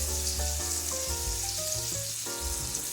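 Steak sizzling in a pan with butter, onion and thyme, a loud, steady frying hiss with occasional clinks and scraping from stirring or basting.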